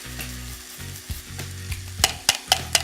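Bacon sizzles and spits in a hot pan, a steady crackling fry with sharper pops and a few tossing knocks near the end, close and alone.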